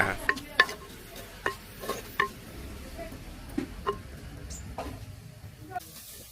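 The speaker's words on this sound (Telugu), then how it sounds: "తర్వాత చక్కటి సెక్క గరిటితో కలగా బొలగం తిప్పేసుకోవాలండి" A wooden ladle stirs green chilies and sliced onions in oil in a clay pot over a wood fire, giving scattered knocks and scrapes over a soft, low sizzle.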